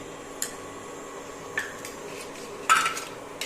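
A metal spoon clinks a few times against a heated pan as a spoonful of ghee goes in; the sounds are soft and sparse over a quiet kitchen background.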